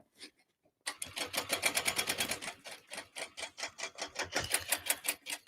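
A sewing machine back stitches across the side connectors of a tote bag, starting after a brief quiet pause and then running close in a rapid, even chatter of needle strokes that slows slightly and speeds up again.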